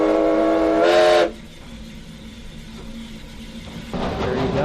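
Old steam locomotive whistle on the V&T railway near Carson City, one loud sustained blast lasting about a second before dropping away to a quieter hissing, rumbling train background that swells again at the end.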